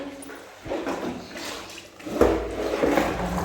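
Warm laundry water is poured out in a heavy splashing gush that swells, eases, then surges again toward the end.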